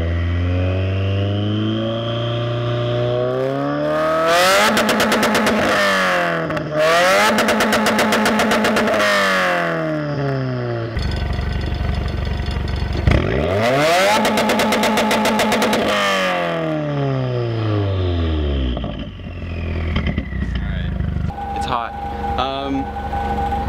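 A 2017 Subaru WRX with a catless exhaust revs hard up close, with several loud surging bursts that climb and fall away, then a final slower wind-down.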